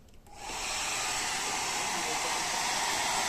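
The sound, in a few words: hair dryer running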